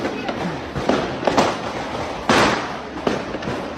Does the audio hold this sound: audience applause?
no